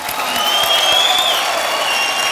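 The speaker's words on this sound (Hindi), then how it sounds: "तालियां।" A television game-show studio audience applauds steadily at moderate volume, a dense even patter of clapping hands lasting throughout.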